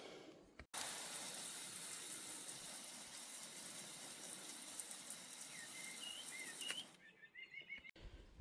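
Water gushes steadily and close for several seconds while plants are watered and given a good soak, then trails off into a few splashes and drips.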